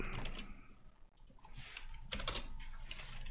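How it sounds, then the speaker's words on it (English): Fingers type on a computer keyboard while installing NodeRed on a Raspberry Pi, producing quiet, irregular clicks and taps, close but faint, with a couple of sharper keystroke bursts. "I completely typed that the wrong way"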